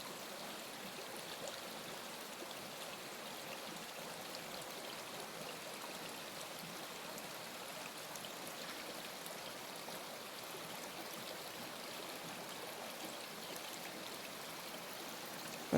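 A shallow stream trickles past stepping stones toward a small island, giving a soft, steady, continuous babbling wash with no breaks.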